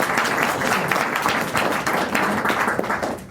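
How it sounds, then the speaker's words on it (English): A conference audience applauding steadily, dense and fairly loud clapping that holds evenly for a few seconds, with no talk on top. "let's give them a round of applause"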